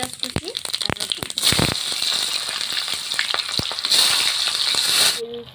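Bay leaves, black pepper, cumin, chopped onion and garlic hit hot oil for a mutton and potato curry, a loud, steady sizzle that swells sharply after a few scattered clicks and then cuts off abruptly.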